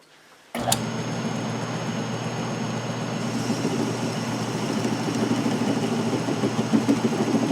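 An Atlas 618 metal lathe turning and cutting a plastic RC car wheel, starting abruptly and running as a steady, fairly loud mechanical drone with a continuous hum and faint whine, no talk.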